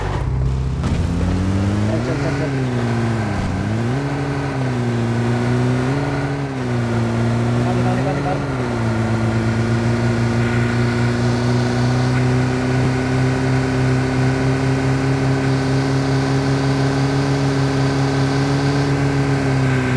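A jeep in the mobile battle-royale game PUBG Mobile drives along, its engine revving in several rising and falling surges before settling into a steady loud drone, with players talking over it.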